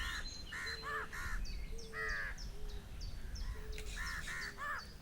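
A New Caledonian crow in forest gives a series of harsh, nasal caws in short bursts, with pauses and softer calls in between, at moderate distance over steady background ambience.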